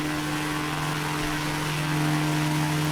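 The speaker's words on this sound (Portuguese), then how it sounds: "Outra coisa que eu adoro também é o barulho do motor." A Zenith CH701 light aircraft engine in Microsoft Flight Simulator drones steadily with a propeller hum, loud and constant with a strong tonal whine and no speech.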